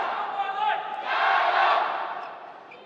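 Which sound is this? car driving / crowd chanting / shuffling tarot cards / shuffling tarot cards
crowd chanting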